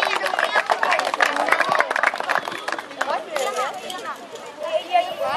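Crowd applause and cheering for the third-place team at the mini Ekstraklasa Cup youth football tournament, Korona Kielce, dense clapping mixed with chatter and a voice over it, fading somewhat toward the end.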